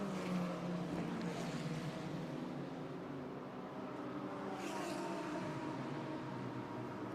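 Onboard a BMW DTM Trophy race car during qualifying at Monza, a continuous muffled engine drone holds steady, with faint rising surges of revs.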